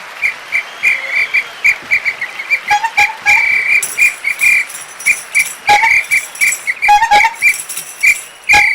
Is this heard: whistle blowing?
yes